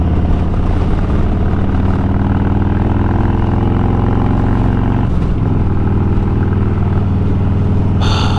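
A motorcycle engine rumbles loud and steady during a road ride, with a constant low drone and a brief dip partway through.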